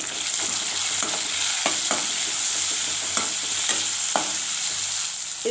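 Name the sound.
sautéing tomato and spices in pan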